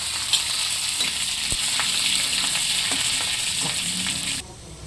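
Garlic, ginger and curry leaves frying in a pan for a prawn roast give a steady, close crackling sizzle with occasional stirring scrapes, which cuts off abruptly near the end.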